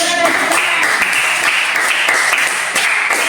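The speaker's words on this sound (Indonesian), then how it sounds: "tepuk tangan." A classroom of students claps together after a group presentation, a continuous, fairly loud burst of many hands with sharper individual claps poking through and faint voices mixed in.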